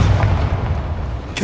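Confringo blasting spell in the wizarding video game Hogwarts Legacy, a heavy booming burst at the start that rolls off into a rumbling decay, followed by a short crack near the end.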